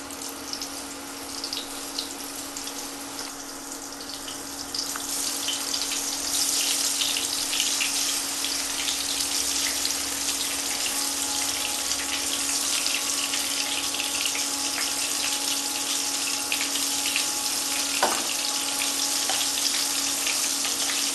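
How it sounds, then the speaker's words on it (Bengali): Eggplant pieces frying in hot oil, a continuous loud hiss that swells after a few seconds and holds steady, with one brief clink near the end. "বেগুনগুলো একটু লাল লাল করে আমি সুন্দর করে ভেজে নেবো"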